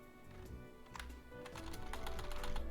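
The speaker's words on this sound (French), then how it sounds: "Je sais pas si vous entendez comment je claque sur le clavier avec les touches" Computer keyboard keys clacking in quick, uneven bursts during a Pokémon game stream, the taps growing denser and louder toward the end, with no voice over them.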